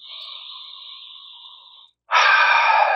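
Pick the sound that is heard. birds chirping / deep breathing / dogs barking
deep breathing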